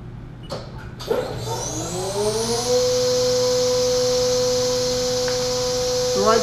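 A Haas CNC machine spindle spins up during its warm-up cycle, reaching 15,000 RPM: a rising whine after a few clicks settles into a loud, steady high-pitched tone with harmonic overtones, and no talk.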